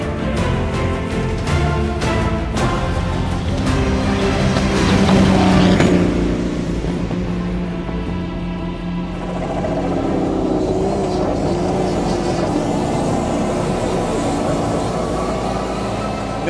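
Off-road race car at a speed offroad circuit in Cikembar, Sukabumi, driven in second gear with rpm held moderate, its engine droning loudly and steadily close by, swelling briefly then easing.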